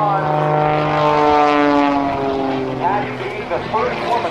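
A single-engine propeller aerobatic airplane at the 2008 NAS Oceana Airshow comes back to full power after a tail slide, a loud, steady droning roar with shifting pitch, heard close and continuous, with a commentator's voice over it.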